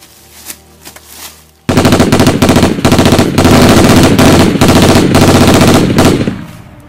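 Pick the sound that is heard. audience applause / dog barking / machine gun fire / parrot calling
machine gun fire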